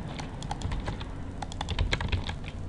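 Rapid clicking of keys on a computer keyboard, steady irregular typing throughout with no voices.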